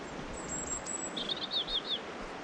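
A European robin sings outdoors along a coastal hiking path, a few thin, high, wavering whistled phrases, faint against a soft steady background hiss, with no voices.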